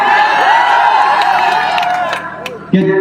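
A crowd at an outdoor political campaign rally cheers, whoops and claps loudly in a sustained roar, fading slightly near the end before a burst of noise.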